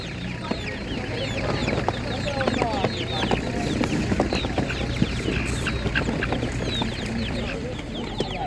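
Chickens, including Spanish and naked-neck hens, cluck and squawk in a busy crowd at a Ukrainian animal market, many close birds calling in overlapping bursts under the continuous talk of people nearby.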